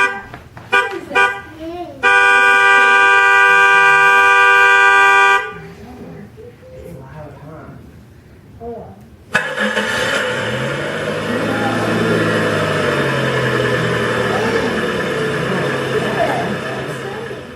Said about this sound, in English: We had a car. Whoop. We had a car sound.